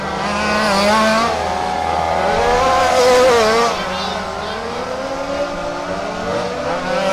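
Rally race cars running at Warm Springs Raceway during the 2025 West Coast Championship Rally main event, loud layered engine whine rising and falling steadily as cars pass, with a commentator's voice partly audible over the track noise.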